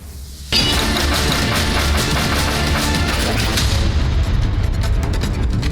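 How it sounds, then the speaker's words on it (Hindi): A Grad multiple rocket launcher strike hits a Ukrainian weapons depot: a sudden loud blast bursts out and rolls into a sustained, roaring rumble of explosions that stays heavy to the end. "ग्रैड एमआरएल से यूक्रेनी हथियार डिपो को तबाह किया।"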